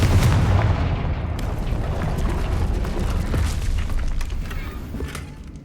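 Confringo fire-blast spell explosions in the Hogwarts Legacy video game, a dense, continuous run of booming blasts and crackling impacts, loud and close, with no talking.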